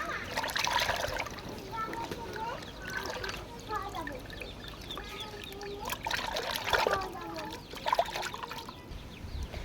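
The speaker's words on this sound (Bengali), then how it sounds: "মোরগটাকে কেটে নিয়েছি, এবার সুন্দর করে ধুয়ে নেব পরিষ্কার করে।" Pieces of freshly cut country rooster meat being rinsed by hand in water, with intermittent splashing and trickling close by, plus faint background voices and bird calls.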